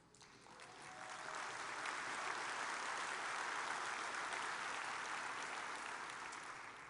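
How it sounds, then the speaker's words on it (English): Audience clapping at a road safety conference opening plenary, a broad crowd applause that swells in over the first second and a half, then holds steady and fairly faint before easing slightly at the end. "you all are clapping"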